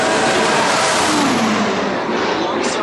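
Formula 1 race cars roar past at the Singapore race, a loud sustained engine wail with a falling pitch as they pass close by, followed by a fading tail.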